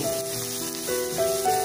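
Onions sizzle in a pan while being stirred, giving a soft, continuous hiss. Sustained musical tones sit above the sizzle throughout.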